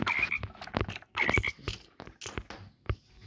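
Frogs croak in Minecraft, a run of short, raspy blips and croaks in quick clusters with brief gaps between them, fairly quiet and close.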